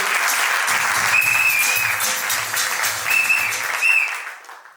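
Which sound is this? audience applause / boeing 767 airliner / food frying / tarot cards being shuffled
audience applause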